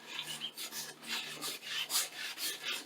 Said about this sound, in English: I take this little wire brush I have, and I just rub it on there.